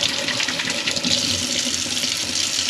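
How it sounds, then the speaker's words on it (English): Steady rush of running tap water with light scrubbing while a beaver skull is cleaned under the stream, continuous and close with no talking. "this is the final last scrub that I'm going to do"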